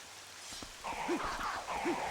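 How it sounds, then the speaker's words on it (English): Ambient rain in the video game Twilight Princess HD, a faint steady hiss of falling rain with a few soft game sounds rising over it, and no voice. "Just the ambient sound of the rain."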